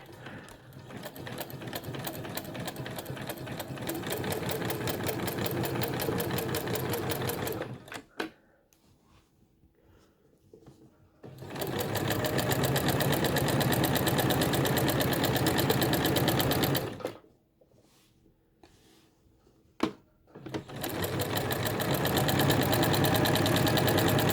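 Sewing machine stitching the backing onto hand-embroidered quilt squares. It makes a loud, close, rapid rhythmic clatter in three long runs, separated by near-silent pauses, with no talking.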